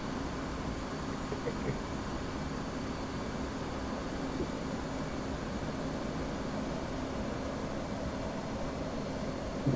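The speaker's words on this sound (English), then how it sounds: "And I am about to take off now." An aircraft taking off in the DCS flight simulator gives a steady, even engine roar with a broad rushing hiss that holds constant throughout.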